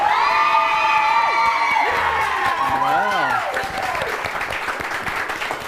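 A crowd applauds, cheers and whoops loudly for Talum at a fantasy dance competition, with excited shouting voices over sustained clapping throughout.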